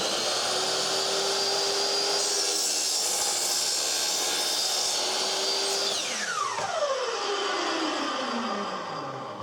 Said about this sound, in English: make sure you do not force the saw. Give it time to cut.